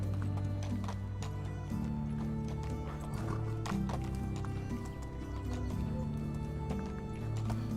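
Horse hooves clip-clop in a quick, steady rhythm as a mount climbs a mountain in the game Medieval Dynasty, with a whinny mixed in over a low, sustained musical background at modest volume.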